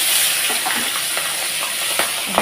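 Slit green chilies hit hot oil already holding whole bay leaf and browned cumin for a fish curry with ash gourd, giving a loud, continuous sizzling hiss with faint stirring scrapes.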